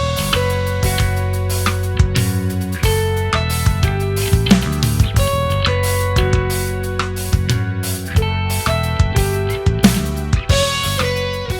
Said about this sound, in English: It happens in the clean electric guitar and the piano in the intro